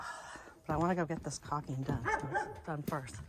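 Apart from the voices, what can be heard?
dog barking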